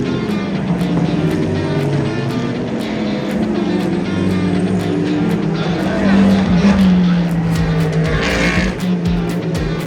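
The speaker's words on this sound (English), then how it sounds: "the hypercars are starting to overtake the GT cars" Le Mans 24 Hours hypercars and GT race cars passing on track, a continuous loud engine drone with rising and falling revs as cars go by, heard from amid a packed crowd.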